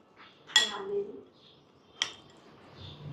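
Peanuts and jaggery stirred together in a dish, heard as two sharp metallic scrapes and clinks of a spoon against the vessel, with soft quiet gaps between them.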